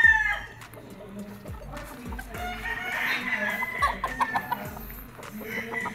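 Gray straight comb gamefowl roosters at a game farm cluck and call, with repeated low clucks and a crow in the mix, heard close amid outdoor farm background.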